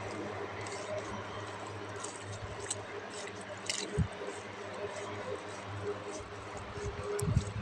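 A compost soil amendment mixture containing worms being stirred by hand, with soft, wet squishing and a few sharper knocks under faint background voice.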